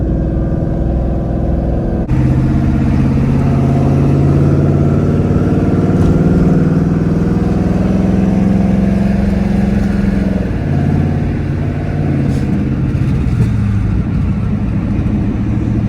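Constant low engine hum and road rumble from inside a moving 1500 wheel-horsepower Ford Mustang, with a shifting tone as it drives through Houston traffic.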